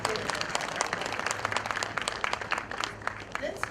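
An audience claps for exhibitors at a trade fair ceremony in Burundi, the scattered, uneven applause mixed with crowd noise and background voices.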